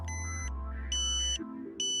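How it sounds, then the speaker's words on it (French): A Ka-Sat satellite modem sounds an ambulance-style pointing tone during dish alignment, high beeps alternating in a two-note siren-like pattern, close and fairly loud, with no voices. "Vous entendez une nouvelle fois la tonalité ambulance."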